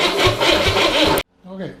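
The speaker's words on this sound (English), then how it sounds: "I'm just going to hit the switch to get it to turn over." A refurbished Corvair engine cranks over without firing, with a loud rhythmic starter churn for about a second that stops abruptly, followed by a brief voice.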